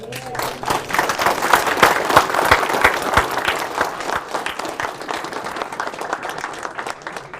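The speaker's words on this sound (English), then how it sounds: "let's give a round of applause for our host this evening" Loud, close applause for the host at an astronomy society's annual dinner meeting, many sharp individual claps within a dense crowd patter, building quickly and then easing slightly while it keeps going.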